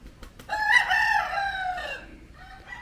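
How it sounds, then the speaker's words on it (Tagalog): A rooster crows once, loud and close, in a farm chicken coop, its drawn-out call rising and falling over a quiet background, followed by a short softer cluck or call. "Ito po ang ating manukan."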